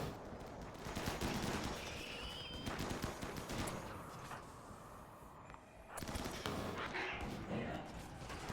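Turrets fire in the colony game RimWorld, sending dense clattering bursts of gunfire that rattle almost continuously with a brief lull, mixed with background game sounds and a speaking voice.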